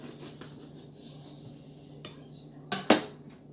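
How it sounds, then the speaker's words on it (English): Knife cutting up ingredients with the skin on for a boiled weight-loss drink, soft faint chopping taps against a hard surface followed by two sharper, louder knocks near the end, no talk. "Cut up the ingredients to put in to boil."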